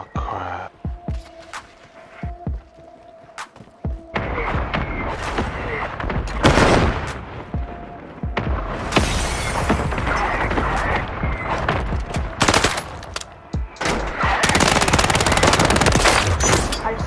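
Gunfire in the battle royale shooter Warzone, with sparse shots at first giving way to long loud bursts of automatic fire and several heavy blasts, dense and close in the later part.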